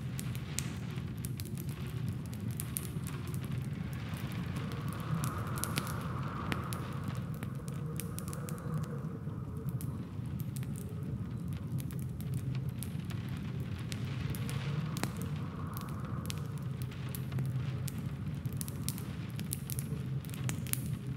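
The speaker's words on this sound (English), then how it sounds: "you listen to the soothing sounds of raindrops tapping on umbrellas and echoing through the urban canyons" Rain falls on city pavement and umbrellas, a soft, even patter that runs unbroken and faint beneath a gentle ambient bed.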